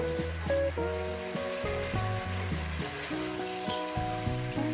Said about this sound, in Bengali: এই সবজিটা দিয়ে আমি এখন ফ্রাই করবো শুধু ভেজে যাবো